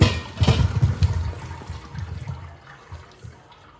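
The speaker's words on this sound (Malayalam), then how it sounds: "ഇതിപ്പോൾ അരിപ്പയിലേക്ക് ഇട്ടിട്ട് ഊറ്റുന്നുണ്ട്" Boiled tapioca being drained through a sieve, hot cooking water pouring and splashing out in a loud burst that gradually thins to trickles and drips, close by with no talk.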